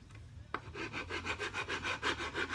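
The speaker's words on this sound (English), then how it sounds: "Now that will take a lot of wood out when you're filing it" A file rasps along the wood of a hand-carved walking stick, about ten rhythmic back-and-forth strokes after a sharp initial knock, close and dry with no talk.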